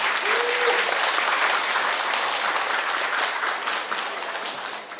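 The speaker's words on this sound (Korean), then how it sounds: "이 두 사람을 위해 뜨거운 박수를 선사해 주시죠" Wedding guests at a ceremony applaud the newly married couple, a dense, steady wash of clapping across the room that stays loud throughout and eases slightly near the end.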